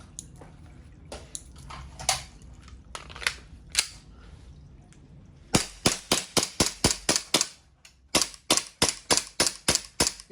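An EMG Strike Industries Glock 17 gas blowback airsoft pistol fires as its gas runs low, sparse scattered pops giving way to two rapid strings of sharp cracks, the later shots close and crisp with no talking.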